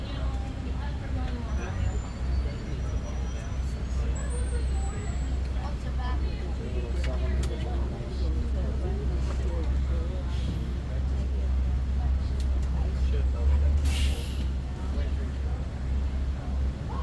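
A safari truck idles just ahead on a late-afternoon Kilimanjaro Safaris ride at Animal Kingdom, a steady low engine rumble throughout with faint hissing from air brakes, heard from the vehicle waiting close behind.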